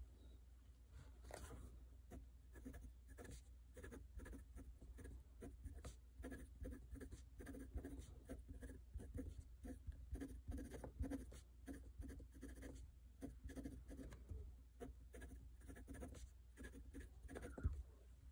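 Steady scratchy scribbling of a Pilot Kakuno fountain pen nib gliding across paper, close and continuous, with soft irregular strokes and pauses.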